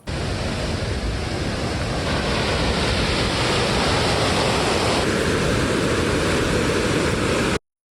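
Steady, dense roar of rushing water from the waterfall in Jajce, Bosnia, broad and unbroken for several seconds, with a faint wind-like hiss over it.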